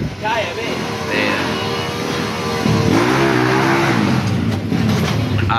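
At a racing meet booth, a tuned car's engine revs up and down near the listener, a rising and falling roar over busy crowd chatter and background noise.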